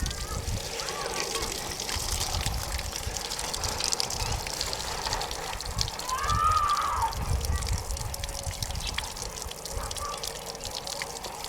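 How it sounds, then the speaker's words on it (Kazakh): Water flows through a gas boiler's heat exchanger during an acid descaling flush, a continuous trickling and sloshing rush with a gurgling swell midway, under faint voices. "Бірінші жағына су құйып, екінші жағынан кислоталар шығып жатыр."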